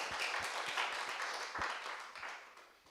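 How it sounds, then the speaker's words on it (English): An audience at a toxicology training session in Uganda claps together, a steady patter of many hands that slowly fades over a few seconds. "Let's clap for ourselves."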